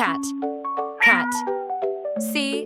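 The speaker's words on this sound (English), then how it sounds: "Cat. Cat. Cat." A cat meows in a few drawn-out, tonal calls, close and clear, with no other sound between them.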